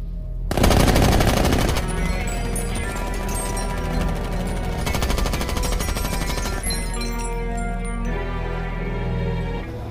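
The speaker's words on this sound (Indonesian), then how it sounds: "mereka berdua langsung membunuhnya dengan cara memberedelnya dengan banyak peluru" Sustained machine gun fire from the action film The Mechanic rattles in long, loud, rapid bursts over a low rumbling score, with brief shifts in intensity and no talk.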